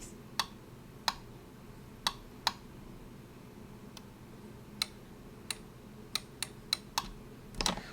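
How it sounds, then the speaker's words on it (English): An IntelliVision True 16 controller gives off sharp, crisp button clicks, about a dozen scattered taps in an uneven rhythm, close-up against quiet room tone. "Listen to all the clickies."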